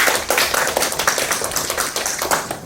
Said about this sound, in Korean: 사단법인 평화철도의 정성희 집행위원장님께 다시 한번 박수 부탁드릴게요.